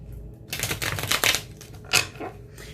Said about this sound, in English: So we're shuffling up the inversion tarot.